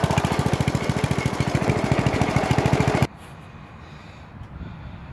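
Bolens riding mower engine running after a carburetor repair, a loud steady pulsing chug that cuts off abruptly about three seconds in, leaving quiet background.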